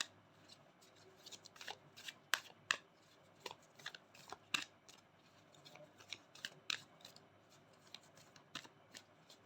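Tarot cards are shuffled up close, with crisp, irregular riffling snaps and soft slides that keep going under a quiet background hiss.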